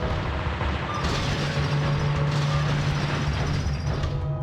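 Rail-mounted mobile cannons in a video game fire in a dense, continuous barrage of booming shots, loud and constant throughout, with no speech.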